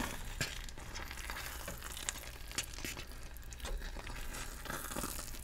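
Cheese being stirred and folded into a mac and cheese mixture in a pan: soft, close, wet squelching and scraping with a few sharper clicks of the utensil against the pan, no talking.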